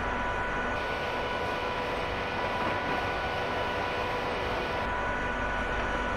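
A train rumbles steadily past on the East Coast Main Line in Train Simulator Classic, a continuous broad roar with a faint tonal whine, holding at constant loudness throughout with no talking.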